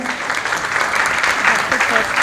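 Sustained applause from a beauty pageant audience, dense steady clapping filling the hall at close range for the whole stretch, with no clear pauses.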